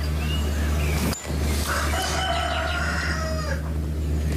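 A rooster crowing outdoors: a drawn-out call that rises and falls, heard somewhat distant over a steady low background hum, with no speech.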